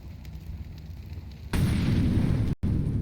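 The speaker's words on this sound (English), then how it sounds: "That's another explosion on top of their head." A grenade explosion in a Counter-Strike match bursts in suddenly as a loud, broad roar that sustains for about a second, briefly cuts out, then resumes over faint ambient game noise.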